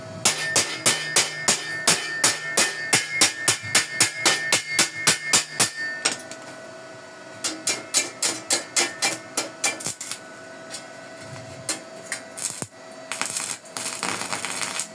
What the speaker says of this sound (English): that is the major reason why I'm tapping while I'm welding